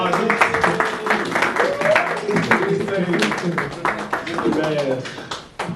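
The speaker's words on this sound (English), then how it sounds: "Everybody clap for mama." A small group claps for mom, who is helping with a project: quick, uneven claps ring out close by beneath overlapping lively chatter and laughter.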